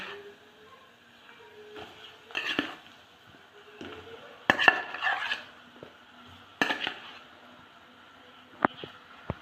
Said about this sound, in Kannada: ಈಗ ಈ ಥರ ಚೆನ್ನಾಗಿ ಇದರಲ್ಲಿ ಮಿಕ್ಸ್ ಮಾಡ್ಕೊಳ್ಳೋಣ ಮಿಕ್ಸ್ ಮಾಡಿ ಮತ್ತೆ ಚೆನ್ನಾಗಿ ಇದರಲ್ಲೇ ಮ್ಯಾಶ್ ಮಾಡೋಣ